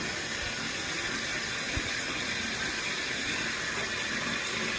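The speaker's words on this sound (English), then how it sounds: "The bath is all ready. Right now, I'm just watching it fill up." Bathtub filling with water from a running tap, a steady continuous rush and splash close by with no voices.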